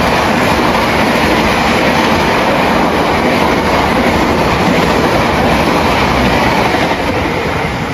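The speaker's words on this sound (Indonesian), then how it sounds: "Bentar ada kereta lewat." A loud train rumbles past close by in Yogyakarta, Indonesia, a dense continuous roar of wheels on rails with a faint clickety-clack, holding steady throughout.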